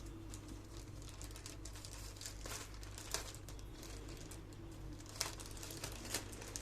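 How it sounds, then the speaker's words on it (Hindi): Plastic wrap is peeled off the box of a 60% SK66S Bluetooth keyboard, giving faint close crinkling with scattered sharp crackles and snaps over a quiet steady hum. "पहले इस रैप को हटा दें।"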